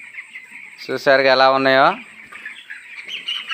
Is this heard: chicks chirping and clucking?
yes